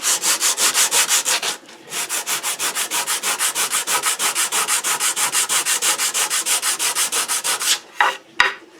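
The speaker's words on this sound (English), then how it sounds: "I'm going to try some 80 grit sandpaper by hand." A Kohler sink cutting board is sanded by hand with 80 grit sandpaper in a brisk, even rhythm of close, loud rasping strokes, with a short pause early on and a few final scrapes at the end.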